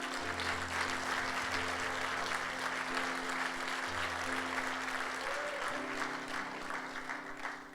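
A church congregation at a pastors' gathering claps for Jesus, a sustained, fairly soft sheet of applause with a steady hum underneath and faint voices mixed in.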